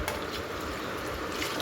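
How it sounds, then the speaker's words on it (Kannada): Water poured from a vessel into a pot of vegetable sambar being cooked for the pressure cooker, a short, soft, steady trickling splash close by with no talking. "ಈಗ ಯಾವುದಕ್ಕೆ ಬೇಕು ಸಾಂಬಾರು ನೋಡಿಕೊಂಡು ನೀರು ಸೇರಿಸ್ತಾ ಇದ್ದೀನಿ"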